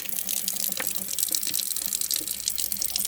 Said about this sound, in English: As long as I don't hit it with the direct water, he's alright.